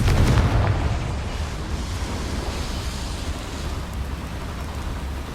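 A Confringo spell blast in the Hogwarts Legacy video game opens with a loud broadband burst, then fades into a sustained low rumble with no voices.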